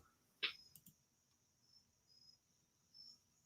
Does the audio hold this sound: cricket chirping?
yes